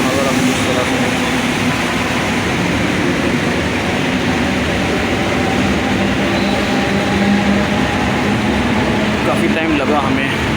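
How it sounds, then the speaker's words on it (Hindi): Mumbai local train at Belapur railway station: a steady, loud rumble of rail and platform noise fills the whole stretch, with voices talking over the din. "अभी हम उतरे हैं बेलापुर स्टेशन पे।"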